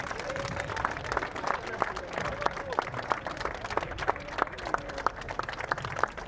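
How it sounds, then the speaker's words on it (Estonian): Applause from a crowd at a drifting event, a steady patter of many hands clapping with scattered louder claps and some background chatter. "Ja aplausi rauge."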